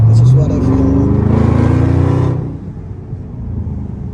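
A Dodge Scat Pack with a 3-inch straight-pipe exhaust and mid and rear muffler delete, roaring loud and close as the engine revs, then dropping to a low rumbling idle.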